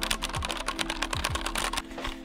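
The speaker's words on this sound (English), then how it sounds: "So this is a keyboard, it's got red Cherry MX switches." Someone types quickly on a mechanical computer keyboard fitted with red Cherry MX switches, a dense stream of close, crisp clacks with no talking over it.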